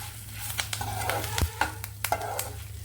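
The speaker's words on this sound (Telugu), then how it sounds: "కరివేపాకు వేస్తున్నానండి. ఇవి లాస్ట్లో వేగితే చాలు." Curry leaves crackle and sizzle in a hot pan for a bitter gourd spice powder, with light scraping of stirring and small pops across a steady frying hiss, close and fairly quiet, with no talk.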